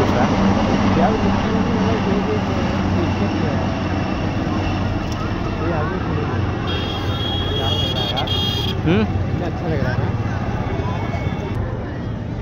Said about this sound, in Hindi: फिर आ रही हेलीकॉप्टर